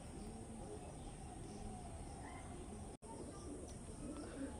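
Pigeons from Andhra, kept as a pair for sale, give faint low cooing and rustling over a steady background hiss, fairly quiet and distant with no clear talk.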